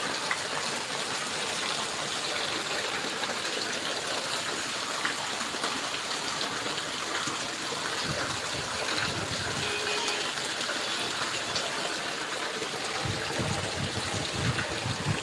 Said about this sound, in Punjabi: ਬਾਰਿਸ਼ ਹੋ ਰਹੀ ਹੈ